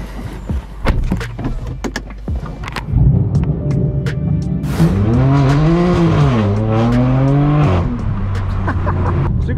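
Straight-piped BMW M4 F82 with loud exhaust, heard from inside the car in early-morning LA traffic: sharp pops and crackles, then a rising and falling engine roar as the car revs and accelerates, close and loud.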